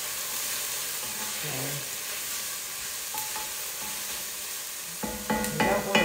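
Garlic browns in oil in a soup pot for pot likker soup, making a steady bright sizzle throughout. A voice speaks one brief word, and stirring clatter grows louder toward the end.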